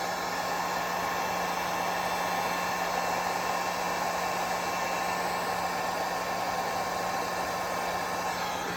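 Steady, loud rushing air from a blower plays continuously over resin on a beach-themed pine needle basket, an unbroken hiss with a faint constant hum.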